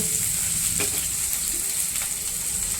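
Sliced onions and curry leaves fry in hot oil for a tempering, making a constant close sizzle with scattered light crackles and no talking.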